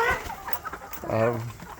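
Hens in a chicken tractor cluck close by in a few short calls, mixed with a person talking over them.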